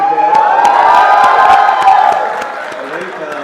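A crowd of listeners at an alumni talk clapping and cheering loudly, a dense sustained roar of applause with whoops that fades somewhat toward the end.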